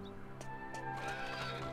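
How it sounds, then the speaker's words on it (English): A horse-drawn cart sets off in Dragon Quest VIII, its hooves clip-clopping in a quick, even rhythm over sustained background music. "When I start to walk, you'll hear my horse cart"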